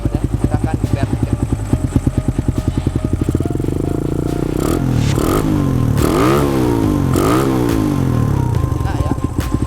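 Honda C70 fitted with a 150 cc Suzuki Satria FU150 engine and a stock CBR150 exhaust, idling with a rapid even pulse, then revved hard in several loud close blips that rise and fall.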